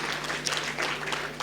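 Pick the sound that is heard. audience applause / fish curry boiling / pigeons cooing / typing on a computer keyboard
audience applause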